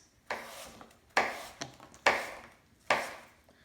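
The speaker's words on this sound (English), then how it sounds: "If I want to make perfect apple slices, which would also be slabs" A knife slicing an apple into slices on a cutting board, four firm, evenly spaced chops cutting through the fruit and knocking onto the board, close and clear.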